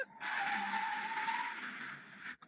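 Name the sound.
Audi car emergency stop braking from 160 km/h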